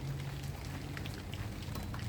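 Rain falls steadily on a vegetable garden with peppers, eggplant and okra, a soft, even patter with scattered drops close by and no voices.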